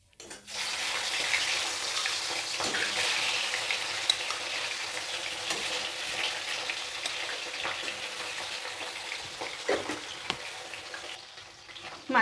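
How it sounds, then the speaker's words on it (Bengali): Fish head sizzles loudly and steadily in hot oil in a wok, a dense continuous crackle with occasional sharper pops and clinks throughout. "এবার আমি মাছের মাথা ভেজে নেব"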